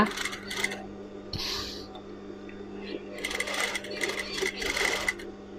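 A sewing machine stitching corded trim onto a garment, with bursts of rapid mechanical whirring and clatter that start and stop, close by, and someone talking between the runs.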